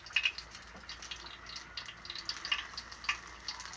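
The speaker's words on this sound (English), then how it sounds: "And then directly into the hot oil it goes." Corndog dropped into hot oil, frying with a faint, scattered crackle and light sizzling pops, quiet and close with no talking.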